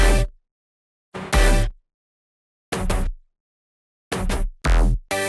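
Drum and bass drop synth stabs in a melodic style: five loud, bright bursts separated by silence, the first short, then paired hits, ending with a quick cluster of three stabs, each with a full low end and no voices.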